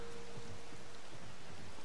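Rain falls steadily in the video game Zelda: Tears of the Kingdom, a soft, even hiss of drops on surfaces, faint and continuous throughout.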